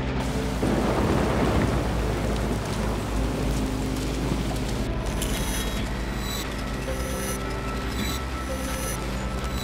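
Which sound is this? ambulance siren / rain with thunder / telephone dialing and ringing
rain with thunder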